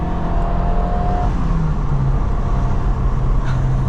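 A small engine in a Suzuki Jimny over 20 years old revs up and accelerates from 0 to 100, pitch climbing through gear changes, loud and close from inside the vehicle.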